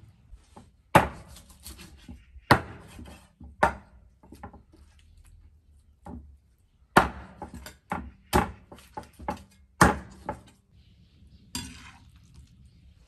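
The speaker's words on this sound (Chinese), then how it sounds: "然后把鸡给它剁成小块。" Raw chicken being hacked into small pieces for a home-style stir-fry: about a dozen sharp, irregular chopping thuds land on a board, spaced by short quiet gaps, close and fairly clear with no talking.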